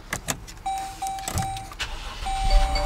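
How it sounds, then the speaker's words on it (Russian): A 2011-2012 Jeep Grand Cherokee's dashboard chimes ding in short repeated tones as the engine rumbles to life at the end, with clicks and mechanical noise around it. "Автомобиль у меня завелся самостоятельно"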